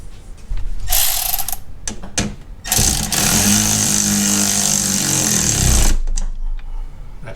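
A power driver runs stainless screws into the rear tub of a C5 Corvette, giving loud, sustained whirring and ratcheting bursts, one long run in the middle, with short pauses between them.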